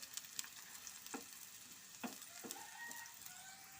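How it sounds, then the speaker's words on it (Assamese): Onions frying in hot oil in a pan with raw green chillies, giving a steady sizzle under a few soft scrape clicks, with a rooster crowing faintly in the background. "পিঁয়াজখিনি ৰঙা হোৱালৈকে ভাজিব লাগিব"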